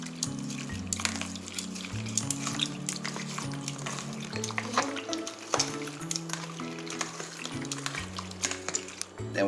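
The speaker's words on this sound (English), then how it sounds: "Take a pair of tongs and we're going to toss all of this together." Ceviche being tossed with tongs in a bowl gives wet, squelchy clicks and juicy sloshing in irregular bursts, close and moderately quiet, with faint music underneath.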